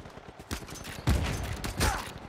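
Gunfire in Uncharted 4 multiplayer, with a rapid string of close shots forming a continuous volley and several heavier blasts landing on top.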